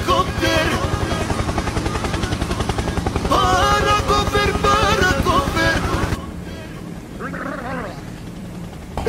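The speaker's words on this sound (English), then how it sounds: "Helicopter, helicopter!" Loud, steady thumping whir of helicopter rotors in Roblox, close by, continuous, then dropping to a lower rumble with some faint background sounds.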